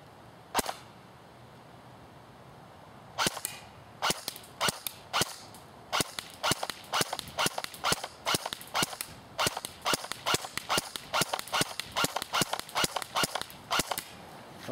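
An AGM MP40 airsoft electric rifle fires on semi-automatic outdoors in wind, giving sharp snapping single shots, a few widely spaced at first, then a steady quick run of evenly paced pops.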